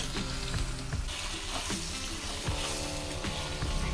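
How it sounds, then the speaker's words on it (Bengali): Pointed gourds (potol) fry in a pan on a low flame with a steady, close sizzle, broken up by clinks and scrapes as they are stirred. "এবার আমার পটলগুলো ভাজা ভাজা হয়ে গেছে"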